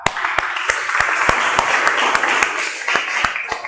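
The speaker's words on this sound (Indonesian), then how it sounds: "Kasih aplaus untuk kelompok 4" A classroom group claps for group 4, a lively, close round of applause with sharp individual claps scattered throughout and a little chatter underneath.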